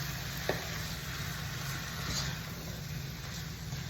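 Potatoes frying in hot oil in a pot on a home stove, a steady, soft, continuous sizzle with one faint clink of a utensil near the start.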